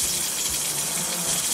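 Tap water runs steadily in a continuous gushing stream, close and fairly loud, filling the whole short stretch with no voices.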